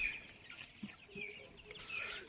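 Faint, intermittent clucking from 28-day-old tiger chickens kept indoors, soft scattered calls over a quiet background.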